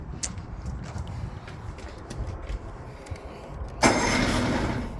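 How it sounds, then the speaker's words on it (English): A 1976 Evinrude 70hp inline three-cylinder two-stroke outboard starts up near the end, bursting into a loud, steady buzzing run after quiet handling and ambient sounds. "Take a second to get this engine running at an idle without dying."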